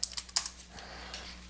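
A computer keyboard is tapped a few times to enter a drawing command: quick, soft, close key clicks clustered at the start, then a quiet hum.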